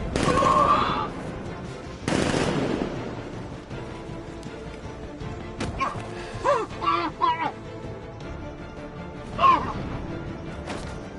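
Gunfire in Batman Arkham Knight, a couple of loud sharp gunshot bursts early, then scattered game sounds and shorter shots under a voice.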